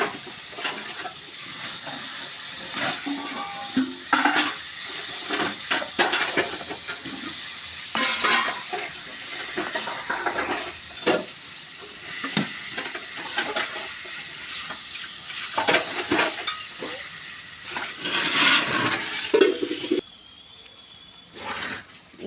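Pointed gourds frying in oil with spices, with a continuous sizzle broken by repeated scraping and stirring strokes of a spoon in the pan, close up and moderately loud.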